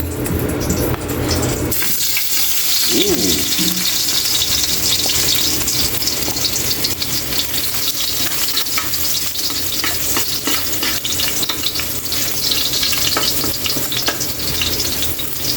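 Garlic sautéing in hot oil in a pan for a Filipino tilapia pochero, a loud, steady, close sizzle and crackle that starts with a sharp burst and continues unbroken, with stirring scrapes and no talking.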